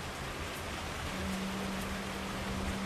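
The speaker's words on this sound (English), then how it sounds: "It's been raining like this all day." Steady rain falls, a dense even hiss of drops with a faint low hum underneath.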